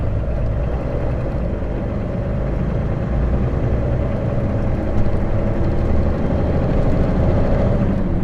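A constant low engine drone of heavy trucks on a city route through Warsaw, heard from a truck cab as a loud, unbroken rumble with no talk.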